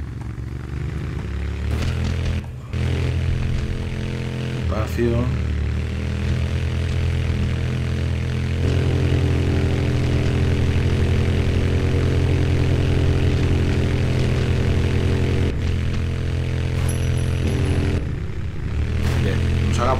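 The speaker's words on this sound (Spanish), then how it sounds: "Y eso está hecho para que bajemos con la moto." A motorcycle engine in the action-adventure game Tomb Raider Underworld, set in southern Mexico, drones loudly and steadily throughout, with its pitch shifting slightly as it rides. A voice speaks briefly.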